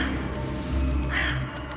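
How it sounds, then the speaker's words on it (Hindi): A crow caws a few times, harsh and fairly close, over low background rumble, with no one speaking. "कौवे की आवाज़"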